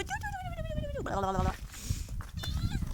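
A cat meows repeatedly in drawn-out, rising and falling cries, close by, over a steady low background rumble.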